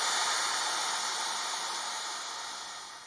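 A heat gun blows a steady, loud airy hiss as it shrinks heat-shrink wrap over lithium battery terminals, the whoosh holding constant and fading slightly at the end with no talking.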